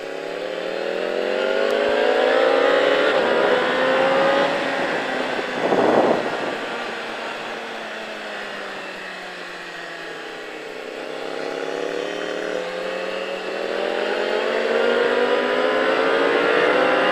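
A motorcycle engine on the Pau-Arnos race track, rising and falling in pitch as the rider works the throttle through bends, loud and close and steady for the whole stretch with no talk over it.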